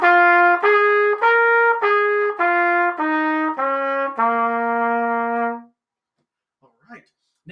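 Solo trumpet climbs and descends a scale in steady quarter notes, about eight clear separate tones ending on a long held low note, loud and close, followed by quiet room sound.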